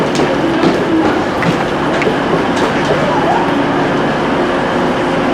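A train rumbles into a railway platform in the South Pennines, a loud, steady rolling roar with faint rhythmic clicks from the wheels, heard up close.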